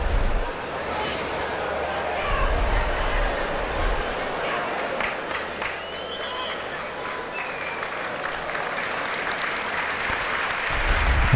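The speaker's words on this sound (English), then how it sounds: "the thunderous applause is for Paul Power" A large football stadium crowd at an Everton versus Leicester City match in 1986 applauds a player, a sustained roar of clapping and cheering that runs throughout, with commentary heard over it.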